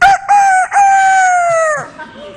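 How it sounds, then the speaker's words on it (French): A rooster crows loudly and close by, one long drawn-out call that rises, holds and drops away at the end. "Aux États-Unis, c'est les coqs qui commencent à nous réveiller."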